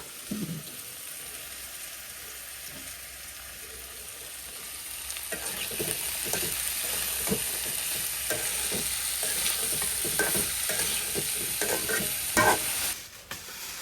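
Chicken and potato curry cooks in a pan in a village kitchen, a steady close sizzle with repeated scraping stirs that grow busier partway through, no voices present.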